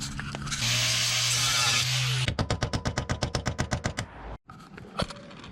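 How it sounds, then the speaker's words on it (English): Rapid metal-on-metal hammering, like a power hammer or air chisel, chattering about fifteen times in quick regular succession up close while breaking a piece off metal on a C10 pickup during a flip kit install, after a steady whirring tool sound. "I'll get my chisel and hammer and see if I can break that off"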